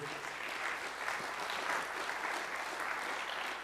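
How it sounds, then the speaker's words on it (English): Audience at an evening community finance seminar applauding two guest presenters, an even, sustained wash of clapping at moderate level with no speech over it. "let's give a round of applause to these 2 guys."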